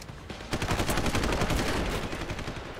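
Rapid, loud gunfire from the video game Deus Ex sounds as a dense, sustained burst of shots fired in quick succession, close and continuous throughout.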